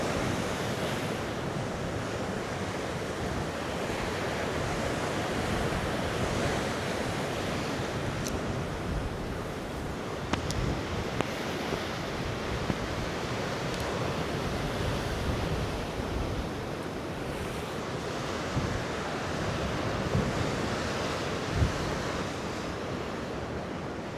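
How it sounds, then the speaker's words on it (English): Heavy surf pounds the shoreline at Costa de la Calma in Mallorca as large waves roll in one after another, giving a dense, unbroken wash of breaking water with onshore wind buffeting the microphone. "the waves in this area are so big and so strong"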